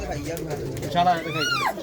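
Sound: pigeons cooing

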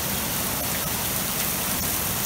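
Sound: hail falling

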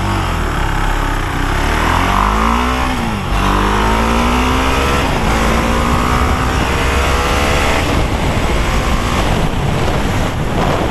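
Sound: Husqvarna Vitpilen 701 motorcycle accelerating from standstill, 0-100 km/h

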